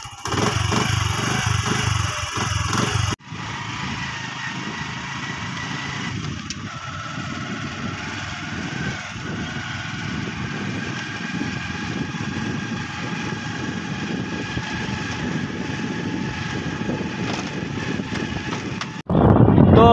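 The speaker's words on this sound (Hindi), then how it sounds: "भैया इसे स्टार्ट करते हैं बाइक को।" A motorbike in a Pakistani village fires up and settles into a steady, loud engine run close by, holding an even throbbing drone for most of the stretch.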